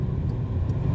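A car with a worn rear wheel bearing and hub assembly drives along a city street, giving off a steady low rumbling drone close by with no talking.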